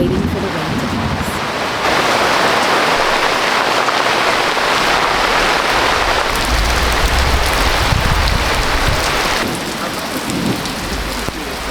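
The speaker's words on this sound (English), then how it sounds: "waiting for the rain to pass." Steady heavy rain pours down, a loud continuous hiss drumming on surfaces, with low rumbles underneath and a slight easing near the end.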